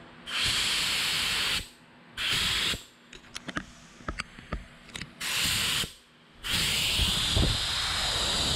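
A spray gun lays high build primer on a 1998 Chevy Z71 in a hot shop in four loud, sustained hissing bursts, with clicks and handling noises in the pauses between them.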